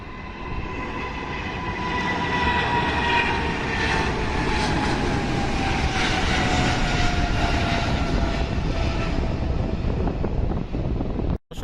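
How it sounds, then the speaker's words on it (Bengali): A Saudi Airlines airliner takes off from the runway of Hazrat Shahjalal International Airport, producing a loud, steady jet roar with a slowly falling engine whine that holds for about eleven seconds before cutting off abruptly; no one speaks. "আমরা একটি বিমান দেখতে পাচ্ছি, সৌদি এয়ারলাইন্সের বিমান"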